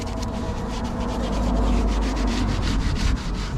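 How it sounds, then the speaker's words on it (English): An old sponge scrubs built-on dirt off the wheel of an MK1 Audi TT, a close, continuous rough rubbing with quick repeated strokes and no voices. "I'm just using that old sponge just to agitate all the built-on dirt"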